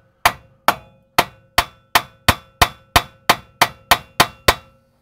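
A hammer repeatedly strikes a front control arm on a Holden VY, about thirteen evenly spaced, loud metallic blows with a bright ringing clang, each decaying quickly, and no talking.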